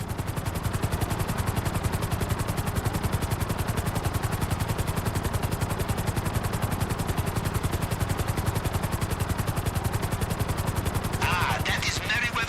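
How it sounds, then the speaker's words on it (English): Merryweather helicopter in the GTA Online video game, a steady loud rotor drone with rapid chopping pulses running throughout, joined near the end by brief higher clattering. "That is Merryweather chopper on the radar."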